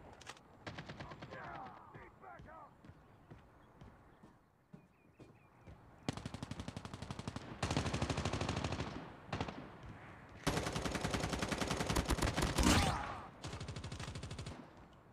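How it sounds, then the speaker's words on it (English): Heavy machine gun fire in Call of Duty Mobile comes in several loud sustained bursts with short gaps between, over a backdrop of other game gunfire and effects. "Heavy machine gun."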